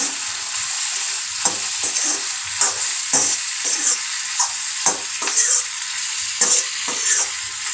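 Tempering sizzles steadily in a pan with asafoetida and salt, broken by a regular series of sharp spoon scrapes and stirring knocks close by, with no talking.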